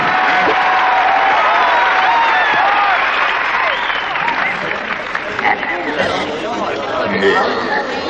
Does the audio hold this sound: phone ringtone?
no